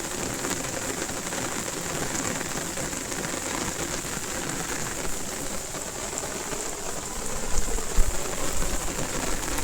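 Heavy rain pours steadily at sea at night near a fishing net, a dense continuous hiss with a few louder splashes toward the end; no one speaks.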